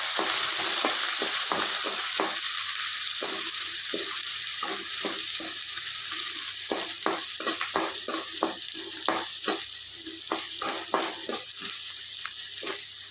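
Shallots, chillies and curry leaves sauté in a pan for a mutton curry, giving a steady close sizzle broken by frequent scraping stirs of a spoon, with no talking.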